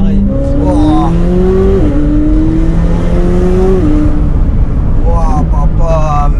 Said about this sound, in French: Là, il y a l'échappement. pas de valve. Ok. C'est tout le temps ouvert.